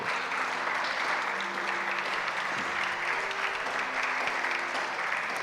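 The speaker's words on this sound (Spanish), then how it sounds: "Aleluya, aplauda al Señor, qué lindo." A church congregation at a Spanish-language service applauds in a dense, continuous wash of many hands, steady and loud throughout, with faint voices and a low hum underneath.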